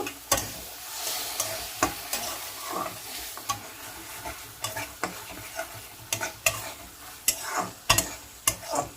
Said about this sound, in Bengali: সামান্য একটু জল দিয়ে কষিয়ে নেব। অল্প জল দিয়ে কষিয়ে নেব।